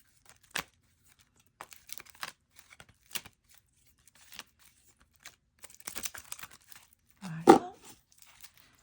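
Oracle cards are shuffled by hand in a quiet room, giving sparse soft slides and flicks spread across the clip, with a louder cluster of card handling near the end.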